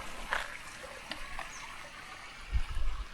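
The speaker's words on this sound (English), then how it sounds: "you can hear the creek below" A soft, steady trickle of a creek flowing below a hiking trail, with faint gurgles, heard from a distance, plus a brief low rumble near the end.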